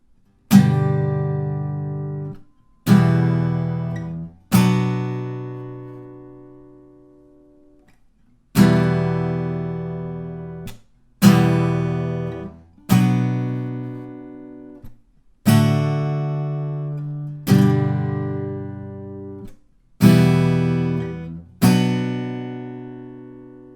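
An acoustic guitar plays the repeating chord progression of a song, with about ten ringing strums spaced a couple of seconds apart, each left to decay, close and unaccompanied.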